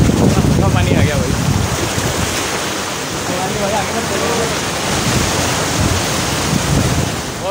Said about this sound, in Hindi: बहुत तेज़ लहर आई थी और वापस जा रही है